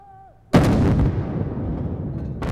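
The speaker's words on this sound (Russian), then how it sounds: "Залп салютной батареи Петропавловской крепости дает сигнал к началу празднования Дня военно-морского флота России." A single loud cannon salvo from the saluting battery at the Peter and Paul Fortress in Saint Petersburg, fired to open Russian Navy Day celebrations; a sharp boom followed by a long rumbling echo that rolls on across the city.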